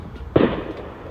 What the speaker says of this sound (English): you see them fireworks over there.